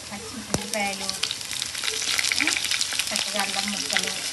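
Onions, together with mustard seeds and chana dal, sizzle in a pan with a steady hiss and crackle, punctuated by a sharp metal tap and stirring scrapes, with no voices over it.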